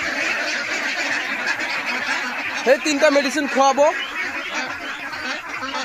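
Ducks on a duck farm give a short burst of nasal quacks partway through, heard under a person talking over the steady background noise of the farm.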